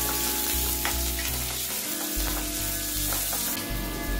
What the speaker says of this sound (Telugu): ఇందులో కరివేపాకు వేసుకోవాలి, అలాగే ఉల్లిపాయ, పచ్చిమిర్చి కూడా వేసుకుని లైట్ గోల్డెన్ బ్రౌన్ కలర్ వచ్చే వరకు